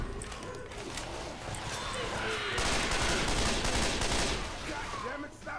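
Continuous gunfire in the video game Left 4 Dead, a steady stream of rapid shots growing louder midway and holding near, with game voices mixed faintly underneath.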